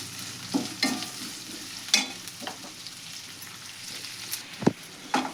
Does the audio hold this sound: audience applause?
no